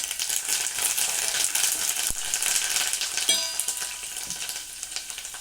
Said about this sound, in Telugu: ఇప్పుడు లాస్ట్లో కరివేపాకు వేసుకుందామండి.